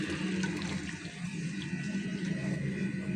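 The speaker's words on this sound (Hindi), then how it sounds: "यहाँ पर गए हम अब पानी ऐड करेंगे" Water is poured into a pan of kofta frying in oil, a loud, close rush of liquid and sizzling bubbling that continues steadily throughout, with no talk.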